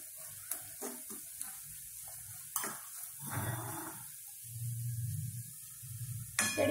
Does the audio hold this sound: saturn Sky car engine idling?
no